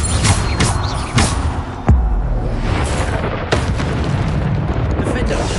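Explosive booms from spell blasts in a PS5 video game, several dense bursts over a continuous roar of game effects, with a player shouting spell names throughout.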